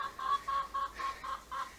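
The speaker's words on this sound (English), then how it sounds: "There's the noisy chicken." A single hen clucks repeatedly in a steady run of about six short, evenly spaced calls, close and fairly clear against a quiet outdoor background.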